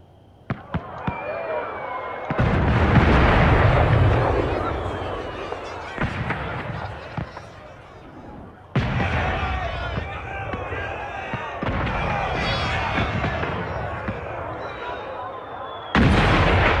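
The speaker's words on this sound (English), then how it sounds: "we're shooting fireworks by it" Fireworks launched and bursting in the Dragon Age Inquisition Trespasser game, several loud booming pops and crackles at irregular intervals, mixed with game sound and occasional voices.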